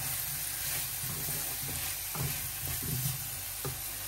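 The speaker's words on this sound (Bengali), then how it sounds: "ডাটা দিয়ে ভালোভাবে একটু কষায় নিতেছি" Vegetable stalks sautéing in a pan with salt and green chillies, a steady close sizzle broken by several clattering stirs of a utensil against the pan.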